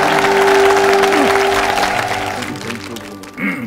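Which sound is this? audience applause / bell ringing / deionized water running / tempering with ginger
audience applause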